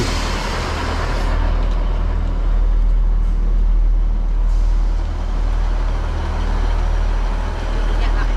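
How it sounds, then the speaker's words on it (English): Northern class 158 two-car diesel unit 158 910 rolling into a West Yorkshire station, a loud, steady low rumble with hissing broadband noise throughout, close by and sustained. "arriving in now is going to be the 16:35 Northern service from Sheffield to Leeds with 158 910"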